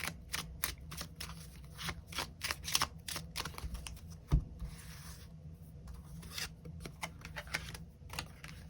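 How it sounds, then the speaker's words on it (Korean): Tarot cards shuffled and drawn one after another, giving a run of crisp flicks, slaps and riffles with a single louder thump partway through, close and quiet with no talking. "그럼 4번 분들 추가 카드로 일별로 월요일부터 일요일까지 어떤 하루를 보내게 될지 추가 카드 뽑아보도록 하겠습니다"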